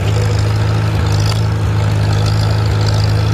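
A Farmall Super C tractor engine runs steadily nearby with a deep, even low drone and some broadband rumble, and no voices over it.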